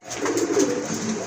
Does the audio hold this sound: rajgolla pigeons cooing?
yes